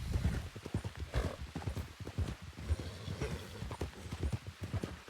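Horse hooves in the game RedM clip-clop in a fast, steady galloping rhythm, moderately quiet and continuous throughout.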